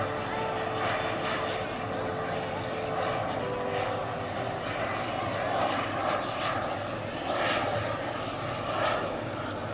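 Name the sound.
four turbine engines of radio-controlled Boeing 747-400 model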